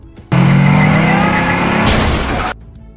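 A car engine roars loudly under a steady high drone from a film scene, holding for about two seconds before a brighter burst like tires skidding, then cutting off abruptly.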